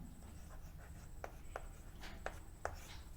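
A pen writes on paper while a class 10 math problem is worked out, faint soft scratching strokes in a quiet room with several short, sharper taps at an uneven pace and no talk.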